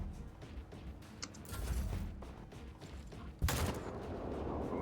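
Bursts of gunfire and mechanical clatter in the video game Rogue Trader, with a sharp louder blast near the end over a busy in-game background.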